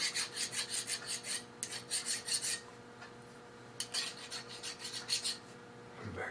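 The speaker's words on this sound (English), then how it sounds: "Give it a little bit of a deburr." Hand deburring of a metal part for a Stirling helicopter, a steady run of quick rasping file strokes in rhythmic bursts, a brief pause, then more strokes, close and moderately loud.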